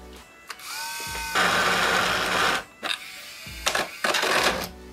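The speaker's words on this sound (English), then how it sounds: "I'm gonna use my Dremel tool. I put on like a sander" Dremel rotary tool fitted with a sanding bit grinding down a plastic flap: a high-pitched whine that spins up, holds for over a second, then cuts out and returns in short bursts, close and fairly loud.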